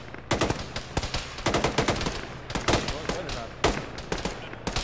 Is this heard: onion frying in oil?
no